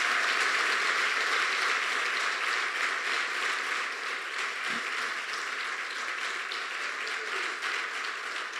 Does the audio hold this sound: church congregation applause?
yes